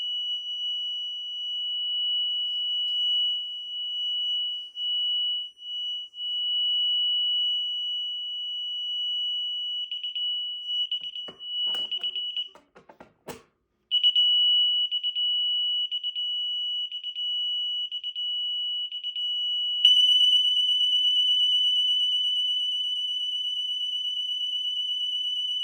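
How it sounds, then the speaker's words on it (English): A piercing, steady high-pitched home security alarm siren sounds loudly and continuously during a bedroom system test, briefly broken by a burst of clatter midway, then resumes with a harsher, buzzier edge. "we will be disarming it with the key fob once the siren sounds"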